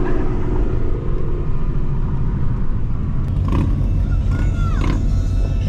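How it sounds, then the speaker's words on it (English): A car does a burnout at a car meet, a loud continuous engine roar and rumble with rising revs and tire noise, close and steady throughout with crowd noise around. "They do a burnout."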